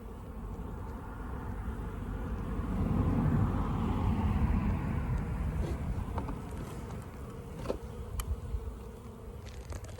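Honeybees from a young colony being fed at their hive hum in a close, continuous drone that swells in the middle, with a few faint clicks and knocks near the end.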